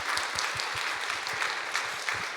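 A church congregation claps during a Sunday worship service, a short stretch of steady, fairly faint applause heard from across the room.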